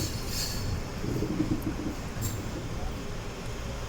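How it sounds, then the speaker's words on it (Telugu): An express train bound from Repalle to Secunderabad pulls out of Tenali junction station, a low, steady rumble heard from a distance with faint rail noise and no voices. "తెనాలి స్టేషన్ నుంచి ఒక ట్రైన్ అయితే వెళ్ళిపోతుంది"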